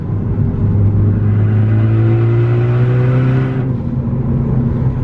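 A hybrid-turbo Ford Focus ST engine drones loudly and steadily, its pitch rising gradually as it revs, then dropping back toward the end.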